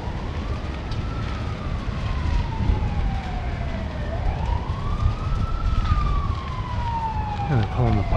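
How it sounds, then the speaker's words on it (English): Emergency vehicle sirens approach a trailer park fire at Whispering Pines Trailer Court in Chase, BC, wailing in slow rising and falling sweeps over steady outdoor rumble and noise. "Here comes sirens."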